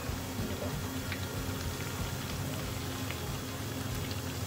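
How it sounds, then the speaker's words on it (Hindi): Cut patod snacks fry in a pan with a steady, dense crackling sizzle, moderately quiet and continuous throughout. "ये काट दिए हमने अपने पतीड़, और अब तलेंगे हम इनको फटाफट से"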